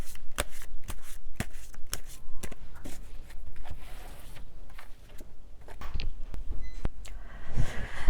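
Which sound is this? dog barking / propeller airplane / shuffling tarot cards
shuffling tarot cards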